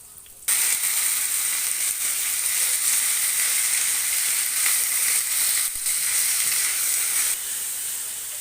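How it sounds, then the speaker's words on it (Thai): Vegetables such as Chinese kale, celery and daikon radish dropped into a hot pot for Thai tom jap chai soup, setting off a sudden loud, steady sizzling hiss that holds for several seconds and fades slightly toward the end. "ผักลงแล้วนะครับ"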